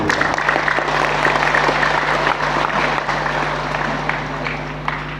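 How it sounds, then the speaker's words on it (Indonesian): A crowd at a religious gathering with army guests applauds loudly, a dense clatter of clapping over a steady low hum from the sound system that eases off slightly toward the end. "Tepuk tangan untuk beliau."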